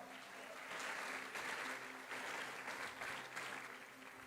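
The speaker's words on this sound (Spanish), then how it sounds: "Démosle un aplauso a ellos." A church congregation applauds pastoral assistants during a sermon, producing dense, continuous clapping with gentle swells in intensity, fairly close and steady for several seconds.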